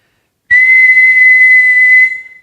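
Someone whistles one high, steady note for about a second and a half, loud and clear against silence, then it fades out.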